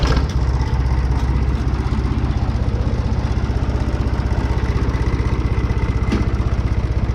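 An International 484 tractor engine idling with a fuel pump problem, a steady, loud, close diesel chug with fast even pulses throughout and no talking.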